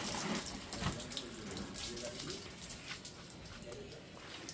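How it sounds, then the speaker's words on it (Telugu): Steady, non-stop heavy rain at a truck unloading point in Kolkata, a constant close wash of falling water and splashing with faint background sounds. "ఎందుకంటే నాన్ స్టాప్ వర్షం పడుతుంది, చెప్పలేము."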